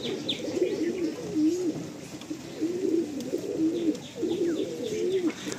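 Madrasi pigeons coo in a loft in Garia, a series of soft, rolling, repeated coos close by with faint chirps around them.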